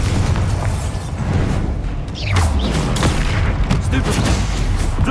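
A Bombarda explosion spell in Hogwarts Legacy amid a busy duel, loud booming blasts and sharp bursts overlapping in a continuous dense clash, with shouting voices mixed in.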